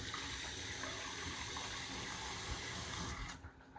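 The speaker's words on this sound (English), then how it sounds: "add this amount of water to it" A kitchen tap pours water steadily into a sink while rice and beans are being prepared, a steady close gush that cuts off near the end.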